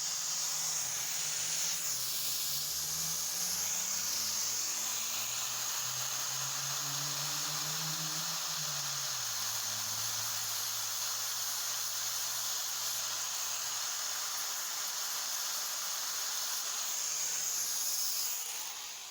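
A fairly worn 36 grit flap disc grinds a Spyderco Shaman knife with a continuous harsh hiss. Under it, the grinder's motor drone sags and shifts in pitch as pressure changes. The sound is sustained and close, with no speech.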